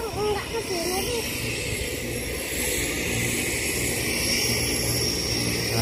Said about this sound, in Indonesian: Tuh pesawatnya guys.